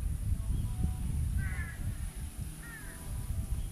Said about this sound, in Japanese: カーカーカーカーカーカーね、カラスが多いよ。